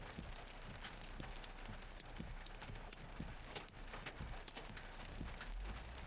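Hail pelts a storm chaser's vehicle during a severe storm, a dense clatter of sharp hard impacts over a steady hiss of rain, close and sustained throughout.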